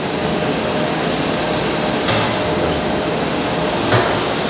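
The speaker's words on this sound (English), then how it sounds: "This is the extruder." A fish feed extruder in a Malawian feed mill making 4 mm floating feed runs with a loud, steady mechanical roar, with a couple of brief metallic knocks.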